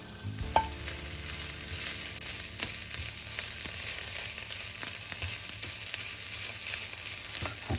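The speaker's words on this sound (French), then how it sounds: "maintenant, je vais faire sauter les girolles." Chanterelle mushrooms sauté in a small pan over high heat, giving a steady crackling sizzle with scattered clicks and scrapes from stirring, and no talking.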